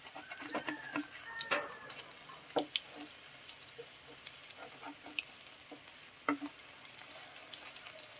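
Quiet sizzle of sayote (chayote) and egg frying in a pan over low heat, with soft crackles and occasional scraping knocks from turning it.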